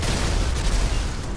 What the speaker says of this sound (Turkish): Evet şimdi arabayı patlatmam lazım.